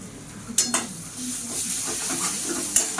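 Ghetkol leaf paste fries dry in a wok, with a soft steady sizzle and a few sharp scrapes and clinks as it is stirred up close.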